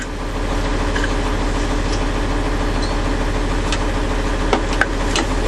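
A Class A truck engine idles steadily while the air brake system builds pressure, a loud continuous rumble with a couple of faint clicks near the end.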